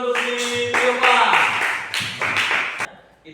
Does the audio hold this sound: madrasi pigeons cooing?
no